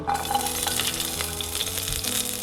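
Chopped shallots frying in coconut oil inside a pressure cooker, a steady close crackling sizzle that runs unbroken, with faint scraping of a spoon against the metal.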